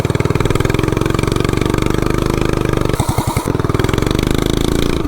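A mini bike with a 420cc big block engine and a modified clutch runs loud and close, with a fast, even chugging beat, then a short, sharp rev burst before it settles back to its steady throb.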